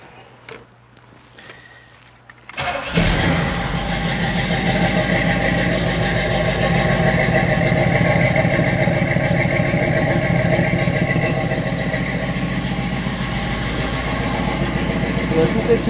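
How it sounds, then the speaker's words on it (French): A freshly rebuilt car engine, still breaking in, cranks and catches after a quiet moment, then settles into a loud, steady, rumbling idle up close, with a person talking over it. "c'est bien sûr un moteur en rodage puisqu'il vient d'être rebuildé entièrement"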